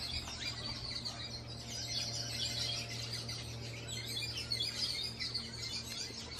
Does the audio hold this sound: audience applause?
no